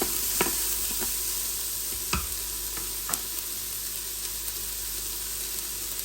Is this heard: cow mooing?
no